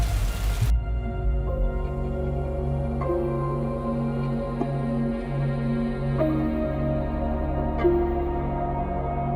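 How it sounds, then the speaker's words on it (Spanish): Rain from tropical storm Alberto in Playa del Carmen, a steady patter of drops on surfaces under a low rumbling hum, with a few faint isolated clicks and no talking. "Lloviendo"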